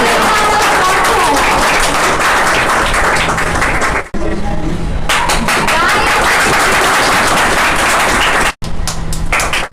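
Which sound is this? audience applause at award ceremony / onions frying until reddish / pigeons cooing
audience applause at award ceremony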